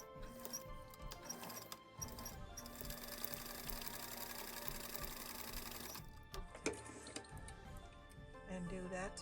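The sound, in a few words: sewing machine stitching fabric for a coaster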